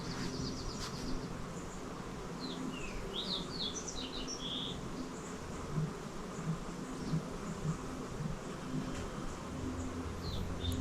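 A grouse on a mountain trail in the Cascades gives low buzzing calls like a vibrating cell phone, repeated steadily under scattered chirps and insect hum in a quiet forest.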